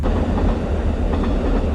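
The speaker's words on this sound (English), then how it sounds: "Had an Amtrak train." An Amtrak passenger train rolls past near the Truckee River in Nevada on a snowy day, a loud, steady rumble of wheels on rail with a faint clatter running throughout.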